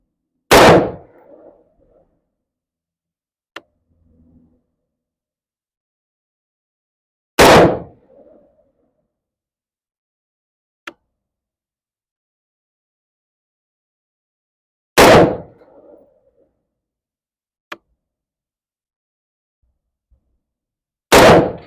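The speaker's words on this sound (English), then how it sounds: "I'm going to fire 5 more rounds, slow fire, same point of aim." A Daniel Defense V7 rifle fires slow, single shots at an outdoor range: four loud, sharp cracks about seven seconds apart, each followed by a brief echo, with faint clicks between and otherwise quiet.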